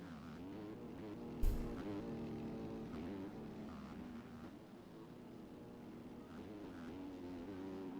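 A motocross bike at an outdoor national race, its engine droning steadily at high revs with a harmonic whine, plus a sharp brief burst early on, heard from a distance without talk.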